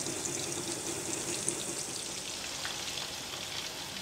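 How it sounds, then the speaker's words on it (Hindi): Chicken wings frying in a pan give a steady, close hiss of sizzling oil that runs evenly and continuously, with no voices. "विंग्स के दोनों साइड से इसको फ्राई कर लेंगे।"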